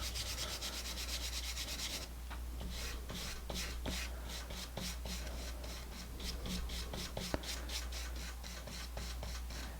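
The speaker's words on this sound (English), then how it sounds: "I'll erase with just a regular old bristle brush" A bristle brush scrubs paint off a portrait canvas in rapid rhythmic strokes, a close, dry, rasping rub repeating steadily, quiet with no talking.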